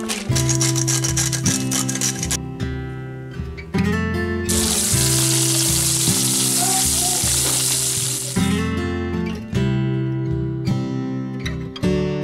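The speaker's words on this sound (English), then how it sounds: "I'm just gonna cook the bacon on the stove top" Bacon frying in a pan on a stovetop, a steady loud sizzle running the whole time with a stronger hiss in the middle, under continuous background music.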